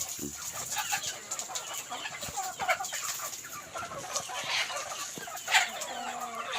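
Village chickens gathered together cluck and chatter steadily throughout, several birds close by with overlapping calls and a louder squawk near the end.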